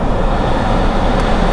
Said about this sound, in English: Let me just turn on the AC